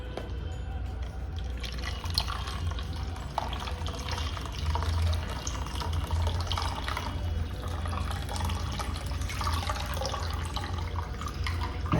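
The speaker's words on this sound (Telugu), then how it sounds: "వెంటనే కూల్ వాటర్ వేసేసుకుందాం." Cool water poured over just-drained, soft-cooked vermicelli in a home kitchen, a steady running splash and dripping that holds evenly throughout, with no one talking.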